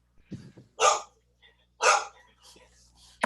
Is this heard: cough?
no